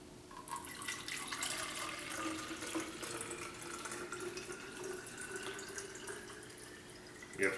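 Water pours steadily into a container to measure its capacity, a quiet continuous trickle and splash with small drips, close and alone.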